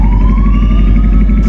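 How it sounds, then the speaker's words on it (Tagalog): Loud, close emergency siren from an ambulance stuck at a traffic crossing, a sustained wailing tone rising slowly over a low rumbling engine, with no talk. "may na-stuck na ambulansya dun sa may crossing"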